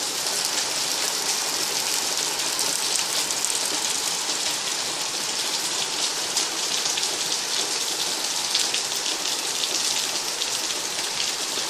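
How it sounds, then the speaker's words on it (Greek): Steady, dense rain falls in Milia, Messinian Mani, Greece, a continuous close hiss of drops pattering on surfaces at even loudness throughout, with no voices. "Ωραία βροχή."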